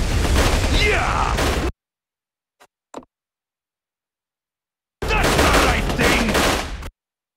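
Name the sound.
gunfire from partisans in Codename: Panzers video game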